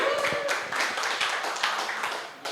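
An audience claps at a live indoor show, brisk scattered handclaps from a modest crowd that run steadily and then trail off.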